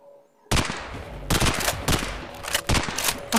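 Guards firing guns in a Squid Game video game: after a brief quiet moment, loud close bursts of rapid gunfire crack out in several volleys with short gaps between them.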